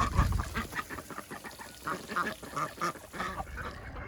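Ducks in a backyard pen kept with chickens quack repeatedly in a busy, overlapping chorus, fairly close and moderately loud, with no talking.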